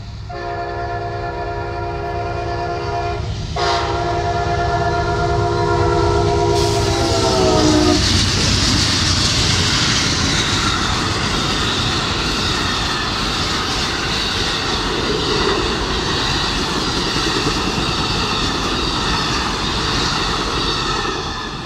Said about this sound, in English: We have Amtrak 91 going by again.